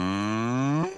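A voice imitates a cow with one long, loud, sustained moo that bends upward at the end and then cuts off.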